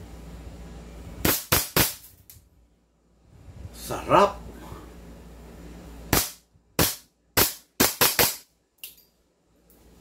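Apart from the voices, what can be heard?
JWC PitViper 2011 airsoft pistol firing shots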